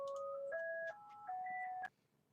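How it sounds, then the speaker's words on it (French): A telephone beeping out a short electronic tone sequence, a few steady two-note chimes stepping up in pitch before cutting off, faint and alone. "Alors désolé pour le bruit du téléphone."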